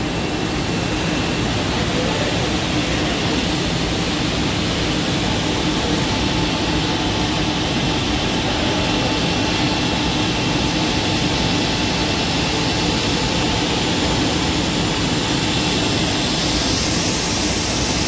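A new 250 kg fabric dyeing machine runs inside a garment company, giving a loud, steady, unbroken mechanical roar with a constant hum and hiss that holds evenly throughout, with no voices.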